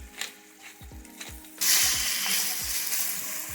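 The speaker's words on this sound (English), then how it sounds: "And freshly ground black pepper." A pepper mill grinds black pepper over a pot of soup, a rapid ratcheting crackle in repeated twists, close and clear, joined partway by a steady sizzle of vegetables frying.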